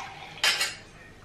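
Metal utensils clink twice in quick succession while strong tea is strained, a short bright rattle close by in a quiet kitchen.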